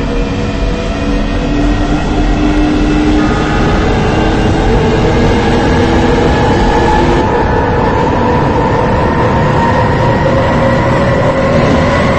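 London Underground Jubilee line train on the Stanmore branch running steadily, a loud sustained rumble with rising motor whine and rail noise, no voices.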